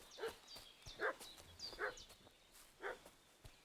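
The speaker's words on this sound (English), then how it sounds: "What's that dog making such a fuss about?" A dog in Kingdom Come: Deliverance II barking and fussing, with a handful of sharp yips and barks spaced irregularly, fairly faint and alone.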